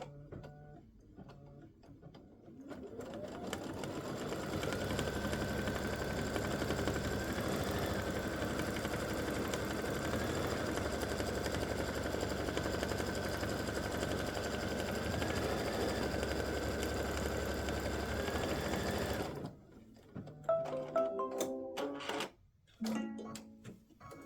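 Embroidery sewing machine stitching an appliqué Christmas stocking, a steady close mechanical whir with a rapid ticking rhythm running for about fifteen seconds, then stopping into a few clicks and handling sounds.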